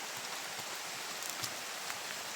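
Rain falls steadily outdoors, a soft continuous hiss with scattered drops tapping nearby surfaces, fairly quiet and with no voices.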